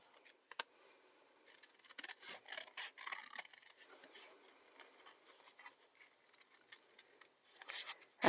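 Scissors snip through paper while cutting out a heart shape, a series of faint, close, irregular cuts and rustles.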